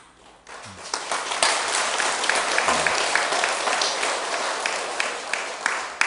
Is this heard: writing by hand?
no